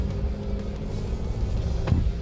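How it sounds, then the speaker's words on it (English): A Nissan Navara Pro 4X ute rolls onto a muddy four-wheel-drive track, its engine a steady low rumble with tyre and body noise that swells briefly near the end. "They did say the Pro 4X is designed for four-wheel driving, so let's go hit the mud."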